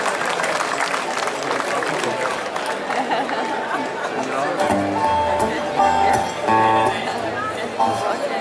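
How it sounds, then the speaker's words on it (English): Audience clapping hands at a gathering, a dense patter of applause mixed with chatter, with a voice speaking over the latter half. "Clap your hands for yourself."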